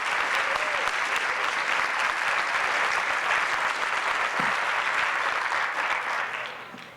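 Steady applause from a crowd honoring volunteers at a Cleveland pitch event, dense and sustained for several seconds before tapering off at the end.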